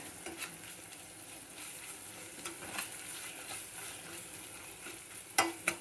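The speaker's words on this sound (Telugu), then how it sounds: "ఇప్పుడు ఈ పేస్ట్ కూడా వేసి కలుపుకుందాం." Spice paste being stirred into a dish in a pan, a soft continuous sizzle with faint scraping strokes and a couple of louder clinks near the end, no talking.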